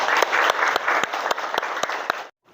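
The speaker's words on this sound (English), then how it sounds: "Okay, give applause for Satria." A classroom of students claps for a classmate, a loud burst of applause with a few sharp, distinct claps standing out, fading slightly before stopping abruptly.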